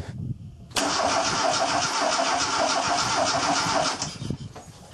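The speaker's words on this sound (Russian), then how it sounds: "Теперь подсоединяем манометр к шланге компрессометра и провернем стартер несколько раз." A car starter cranks the engine during a compression test with a gauge fitted, so the engine does not fire. A short quiet lead-in gives way to about three seconds of loud, steady, rhythmic whirring that then stops.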